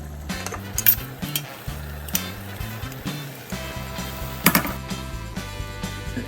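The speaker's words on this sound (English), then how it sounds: "So you want to stir the ingredients and put them back on top of the pasta here." Pasta gets stirred into Cajun-spiced jambalaya ingredients in a pan, with irregular clinks and scrapes of a utensil against metal over a faint sizzle, close by.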